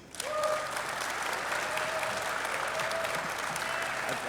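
A seminar audience at a Scottsdale sports car event applauds to vote, with a short burst of clapping that rises quickly and holds at an even level. A faint tone lingers beneath the patter, and no one speaks.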